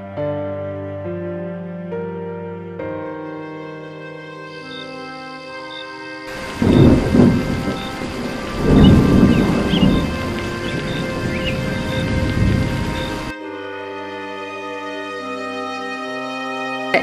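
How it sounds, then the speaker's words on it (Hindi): Heavy rain pours down with rolling thunder, a loud dense downpour with deep rumbling bursts. It breaks in suddenly between stretches of melodic cartoon music and stops just as abruptly. "अरे आज तो खूब बारिश हुई है"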